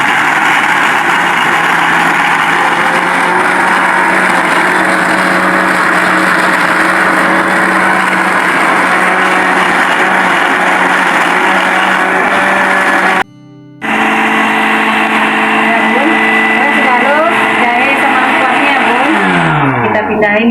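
An electric blender grinding gulai rendang spices runs as a loud, steady, high motor whine, stops briefly, then restarts and continues with a shifting pitch toward the end.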